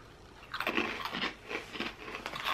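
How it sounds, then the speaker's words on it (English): Close, quiet crunching of someone chewing a small, crisp, salty snack, a few bites in uneven bursts with brief pauses between them. "Oh. Very crunchy."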